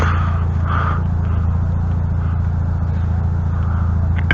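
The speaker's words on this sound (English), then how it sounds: "I'm hearing a car idle." A car engine idles outside, a steady low rumble holding evenly throughout, with no talk over it.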